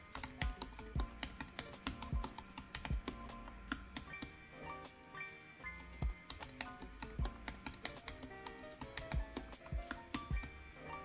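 A password is typed on a computer keyboard at an Ubuntu Linux login, a quick, close run of light clicking keystrokes that pauses briefly midway and then resumes.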